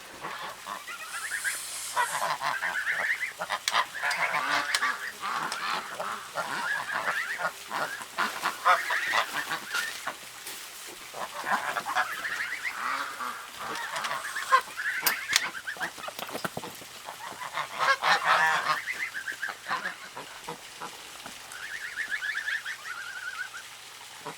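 Goslings honk and peep continuously at close range on a homestead, a busy overlapping chorus of calls with no talk over it.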